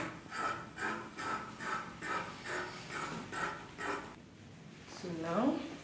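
Scissors cut through dress fabric along the seam allowance in a steady run of about eight rhythmic rasping snips, close and moderate in volume, followed by a brief rustle of cloth.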